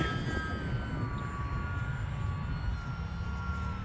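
An E-flite UMX Pitts S-1S RC airplane flies on 3S power outdoors, making a thin, steady whine that drifts in pitch as it passes at a moderate distance over a low background rumble.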